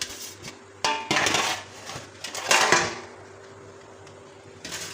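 A metal baking tray being handled while oil is spread over it, giving a few loud clattering clanks and scrapes in bursts with quieter rubbing between, close by and without talk.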